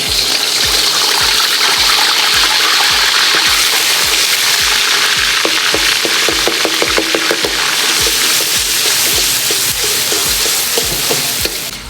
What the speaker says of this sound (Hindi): सबसे पहले इसमें हम अदरक लहसुन का जो पेस्ट है वो ऐड करेंगे।